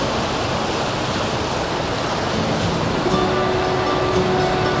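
A swollen river at a local creek rushes and roars in a steady, loud broadband wash of water, continuous throughout, with faint tonal hums near the end.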